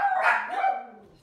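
A dog barks in one short, close, yelping bark that trails into a whine, heard alone in an indoor room.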